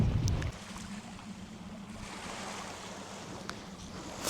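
Ocean waves at a beach in Denmark on a calm day with small waves, a steady broadband wash of surf with some wind noise, continuous and moderately distant, with no talking.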